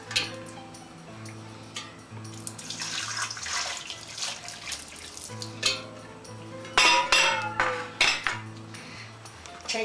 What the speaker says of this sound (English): pour the boiling hot water over the turkey.